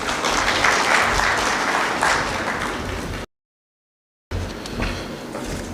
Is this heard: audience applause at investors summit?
yes